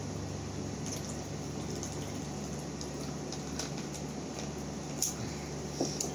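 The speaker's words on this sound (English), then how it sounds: "Water." Water running from a tap during Halloween pumpkin carving, a quiet continuous trickle with faint clinks and splashes, fairly distant and steady.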